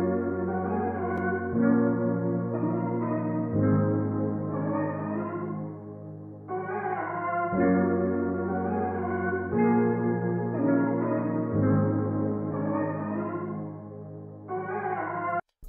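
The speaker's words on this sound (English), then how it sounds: "So I just pitched it down one semitone, and I time stretched it and chopped it up a little bit" A pitched-down, time-stretched vocal sample loops in choppy segments over smooth sustained chords, with abrupt cuts between phrases and a soft, washy tone.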